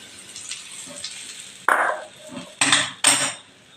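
Hot oil poured over gram flour for a brinjal dish, giving several short, bright sizzling hisses that rise abruptly and fade, separated by quieter kitchen clatter.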